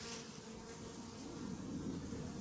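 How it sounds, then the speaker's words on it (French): A hornet hovers near a crowded, overfilled beehive, its steady droning buzz continuous and close throughout, blended with the lower hum of many bees. "Ah, le frelon."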